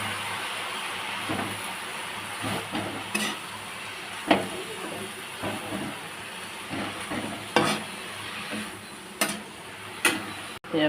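Spinach sizzling with softened onions in a hot pan, a steady close fry with repeated stirring scrapes and clinks throughout, no voice over it.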